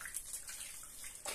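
Water running or being poured at home during a supply outage, a faint, steady hiss of flow over about a second and a half, with no voices.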